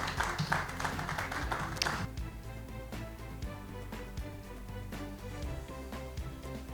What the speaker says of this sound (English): Please, a round of applause to Ubong.